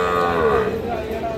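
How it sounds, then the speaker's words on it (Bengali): A single close, loud moo from a young bull or heifer calf at a muddy cattle market, a drawn-out bellow set against steady crowd and background noise. "এই যে সামনে দেখতেছেন আপনারা সবচেয়ে ছোট ছোট ষাঁড় ও বকনা বাছুর গরু।"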